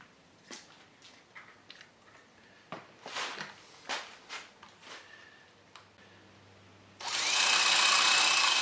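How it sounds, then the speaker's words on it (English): A new drill bores into the apron of a Harrison M300 lathe in a workshop, starting with scattered knocks and short bursts, then a loud, steady whirring run near the end. "Is this a blunt drill? This is a new drill."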